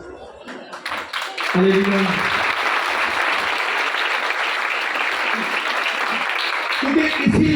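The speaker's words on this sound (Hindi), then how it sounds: "ये तो तालियां मारनी है देना।" A church congregation at a Palm Sunday service claps steadily in a sustained burst of applause that fills the room, with a voice calling out briefly over it at the start and near the end.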